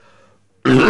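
A short silence, then a sudden, loud, rough cough bursts out close by and carries on harshly to the end.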